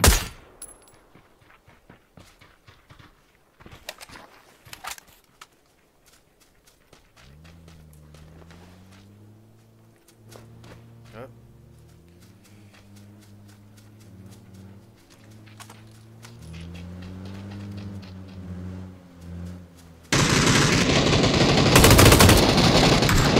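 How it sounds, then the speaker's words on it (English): PUBG gunfire: scattered sharp shots and rapid bursts early on, fading under a low droning hum, then a loud blast of dense noise at the end. "I'm being shot at."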